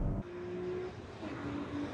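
Skyline coupe engine accelerating on a test track, a fairly quiet steady drone with a rising tone, heard alone without talk.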